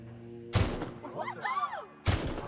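In the Outer Worlds video game, gunfire hits guards as two loud, sharp gunshots ring out about one and a half seconds apart, with a voice speaking between them.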